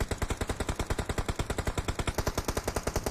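Rapid automatic gunfire in the video game PUBG Mobile (BGMI): a steady, evenly spaced stream of loud close shots, about ten per second, with no talking over it.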